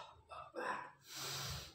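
A forceful breath during a breathing exercise: a couple of short, sharp breathy pushes followed by a longer, steady rushing exhale, close and fairly quiet.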